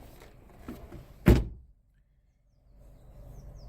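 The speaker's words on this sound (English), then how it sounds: "Let me just switch hands while I shut the door." A single solid thunk of a 2010 Honda Jazz Mark III car door shutting, preceded by faint rustling and followed by near silence.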